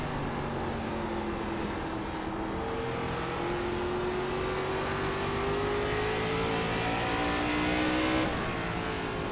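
Race cars in the iRacing ARCA Menards Series at North Wilkesboro drone steadily at high revs, engine pitch rising and shifting as several cars pass close on track, a continuous loud roar with no voices.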